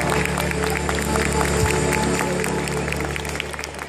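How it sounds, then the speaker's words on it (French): Dense, steady applause from a crowd at a cosplay parade at a book fair fills the whole stretch, a continuous wash of clapping with a low hum underneath. "Et on applaudit bien fort."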